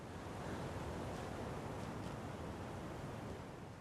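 Water laps and washes in a dark, spooky setting in the video game Alan Wake 2, a steady, airy surf-like rush that holds at a constant low level with no voices.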